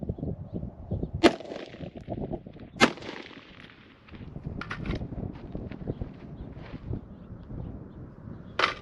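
AR-15 rifle fitted with a magnetic recoil buffer fires a few loud, sharp outdoor shots spaced unevenly over several seconds, each leaving a short ringing echo over quieter background noise.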